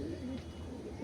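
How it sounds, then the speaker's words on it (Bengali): A pair of pure Andhra pigeons coo softly and continuously at close range, their low rolling calls forming a steady murmur from start to finish. "তো এই দুটো পায়রা"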